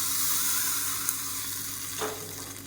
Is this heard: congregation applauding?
no